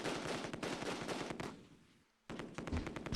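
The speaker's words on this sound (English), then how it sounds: "They're shooting out of the 2-story on our side again that we held." Rapid bursts of gunfire in the World War II strategy game Close Combat II, heard as dense, loud rattling volleys that briefly fade before another sharp burst opens up.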